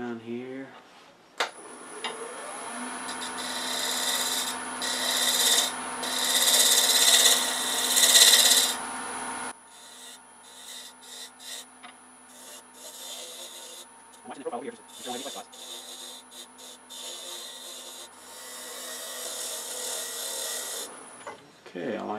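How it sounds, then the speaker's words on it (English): A negative rake scraper rasps against a small hollow wood form spinning on a lathe in bursts, loudest early on, then lighter intermittent scraping with a few pauses and some brief talk. "I think I want to use a negative rake scraper."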